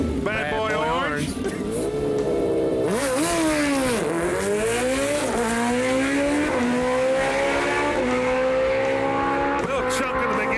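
A 1968 Chevy Camaro makes a loud drag run, its engine climbing through rising revs and gear changes with a chunk at launch and a backfire at the end, while people talk over it.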